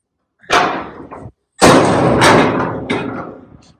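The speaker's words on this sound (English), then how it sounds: "let's close the door." A semi-trailer truck cab door slams shut nearby, a heavy metallic thud followed by a second louder slam with rattling and a fading resonant ring, in an otherwise quiet setting.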